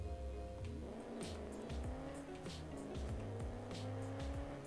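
Car engines and squealing tires in Car Parking Multiplayer, a revving motor rising and falling in pitch while repeated sharp tire screeches cut in and out, loud and close.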